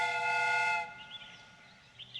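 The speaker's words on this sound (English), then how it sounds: "The steam whistle is ready." Steam whistle on a replica train in a Sherlock Holmes video game, one steady, fairly loud tonal blast that cuts off abruptly after almost a second, leaving faint clanking afterward.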